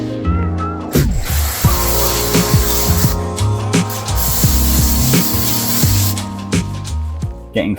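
Water spraying onto a Ferrari F430 during a wash, a steady hissing jet with short bursts and pauses, close and loud, over tonal music.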